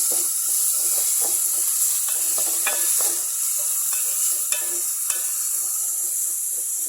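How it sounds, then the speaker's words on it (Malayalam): Onion, green chili, curry leaves and salt sauté in hot oil for a squid roast, with a steady bright sizzle and irregular scraping stirs and taps of the spoon, close up with no one speaking. "ഇതെല്ലാം കൂടി ഒന്ന് വഴറ്റിയെടുക്കാം."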